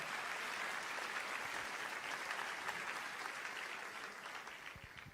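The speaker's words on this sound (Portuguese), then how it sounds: "Se for para aplaudir a Jesus, aplaude com força." Church congregation applauding hard and steadily after the preacher's call, a dense wash of clapping from many hands that fades slightly near the end.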